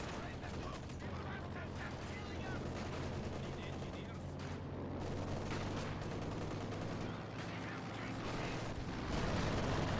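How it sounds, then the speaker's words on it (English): Enemy troops firing in Company of Heroes 2, a World War II strategy game: dense, continuous crackling gunfire and distant booms over a low humming drone, steady and moderately loud, with faint battlefield clatter mixed in. "Why are they shooting at us?"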